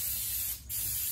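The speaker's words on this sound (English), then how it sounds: "I spray my crock pot a little bit" Vegetable oil cooking spray hisses into a crock pot in a steady close burst, broken by a brief gap before spraying again, with no talking.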